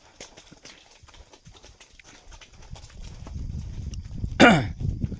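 Horse hooves clip-clopping on a mountain path during an early-morning ride to work, soft steady steps growing louder as the animal nears, with a brief louder scrape or snort near the end.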